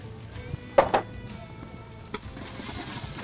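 Sliced onions dropped into a hot pan on a cookery show, giving a soft, steady sizzle with a couple of sharp clatters as they land and are stirred, close and fairly quiet.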